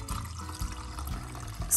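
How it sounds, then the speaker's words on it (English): Turmeric tincture poured from a container into a jar, a short, close, steady liquid stream with low gurgling running throughout. "so that when we pour this, it's not going all over the counter"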